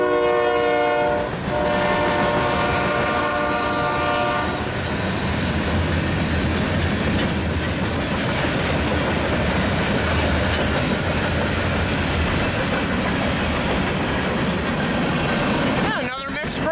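A Union Pacific diesel mixed freight train rolls past at close range, its horn sounding in long blasts early on over a steady, loud roar of engines and wheels that continues throughout.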